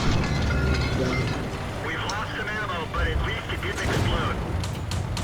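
Rapid tank cannon shots from a quick-firing gun in the World of Tanks video game, heavy booms layered within a dense, loud battle din of engine rumble and explosions.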